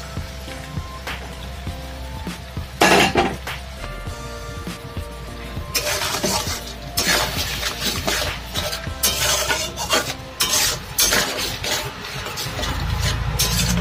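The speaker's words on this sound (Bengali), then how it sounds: "সব কিছু ভালো করে একবার ভালো করে কষিয়ে নিচ্ছি।" Spices stirred and sautéed with yogurt for Bengali doi mach (yogurt fish), a spoon scraping and clattering in the pan amid a steady sizzle, with irregular knocks and scrapes close up and no talking.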